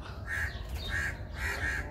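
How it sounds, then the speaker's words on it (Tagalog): Several agitated crows caw in harsh bursts near a fallen chick, three or four calls over a low rumbling background, fairly close. "nakagulo na yung mga uwak. Ayun guys, yung uwak."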